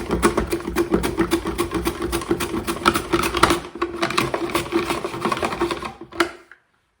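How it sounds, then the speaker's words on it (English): Parsnips being sliced quickly on a mandoline, heard as a fast, loud, rhythmic clatter of repeated strokes up close for about six seconds before it stops abruptly into silence. "So that's how the mandolin part works."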